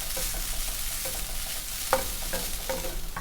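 Grated coconut sizzles and crackles in a pan as it roasts for vada pav chutney, with a steady hiss and occasional stirring scrapes.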